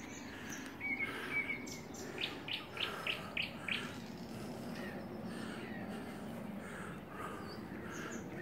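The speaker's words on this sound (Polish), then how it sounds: "Zamilknę, bo śpiewają ptaki." Birds sing along the Vistula River, one bird's bright repeated chirps ringing out clearly early on over a soft constant background hum, then fading into quieter distant calls without any talking.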